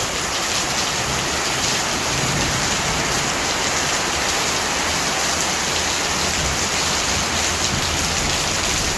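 Heavy rain falls steadily on an aviary, a dense, loud, unbroken hiss and patter that stays constant throughout with no voices.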